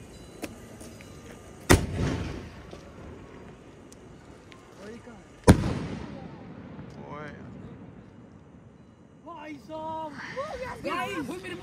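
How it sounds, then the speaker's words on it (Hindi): Saturn Yellow firecracker shots during Diwali, with two sharp, loud bursts a few seconds apart followed by crackling and scattered pops, while people talk nearby. "अभी पहला पटाखा हम टेस्ट करने वाले हैं, सैटर्न येलो"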